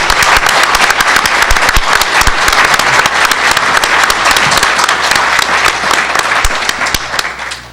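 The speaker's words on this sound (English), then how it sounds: "Let's give them a round of applause and thank them." A large audience at a landmark agreement announcement bursts into loud, sustained applause, dense clapping that fills the room before tapering off slightly at the end.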